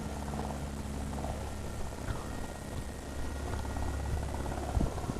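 A small V911 RC helicopter in flight outdoors, its propeller and motor producing a steady, even buzzing hum at moderate distance with no talking.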